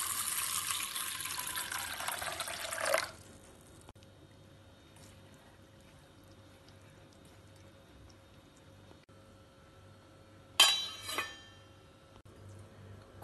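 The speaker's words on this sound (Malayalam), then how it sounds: "ഇതിലേക്ക് നല്ലോണം മുങ്ങിക്കിടക്കുന്ന ഭാഗത്തിന് വെള്ളം ഒഴിച്ച് 1 മണിക്കൂർ കുതിർത്ത് വെക്കാം." Water gushes into a bowl of split moong dal to soak it. The steady pour lasts about three seconds and is followed by quiet, then a brief second splash near the end.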